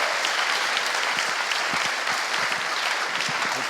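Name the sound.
audience applause to open the panel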